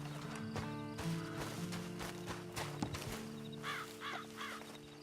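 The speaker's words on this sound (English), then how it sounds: "Then you better get on this horse." Horse hooves clip-clop in Red Dead Redemption 2, a soft, steady walking beat set in outdoor game ambience with cawing crows and chirping birds over a low hum.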